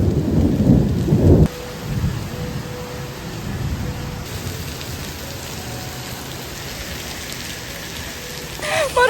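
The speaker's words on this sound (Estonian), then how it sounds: "õues on paduvihm" Heavy rain pours outdoors in Malaysia during a thunderstorm, beside a McDonald's set in a forest. A loud rumbling burst opens it, then a steady dense hiss of rain runs under faint background noise.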